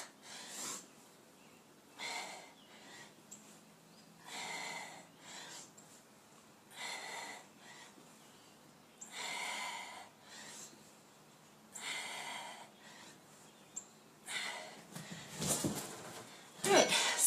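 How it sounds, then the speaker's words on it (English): Breaths drawn in and pushed out during exercise on a stability ball, with repeated bursts of airy inhales and exhales in an even rhythm, close and fairly loud, a few sharper snort-like breaths toward the end. "Making sure I breathe in between."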